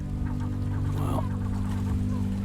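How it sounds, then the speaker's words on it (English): Seagulls squawk in the video game Before Your Eyes, a single honking cry rising briefly over a steady droning hum. "Oh, shut up, you trash birds."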